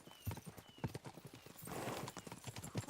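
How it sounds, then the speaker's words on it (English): Horse hooves clatter in a fast, regular clip-clop as a mount gallops in the medieval game Kingdom Come: Deliverance II, close and steady, with a brief rush of wind-like noise in the middle. "We should spur the horses on."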